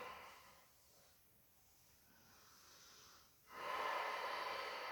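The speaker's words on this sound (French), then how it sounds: "pourquoi pas la respiration sonore, Ujjayi" Slow, audible Ujjayi yoga breaths: a soft, drawn-out hissing exhale followed by a quieter pause, then a louder, rushing inhale, close and alone with no talking.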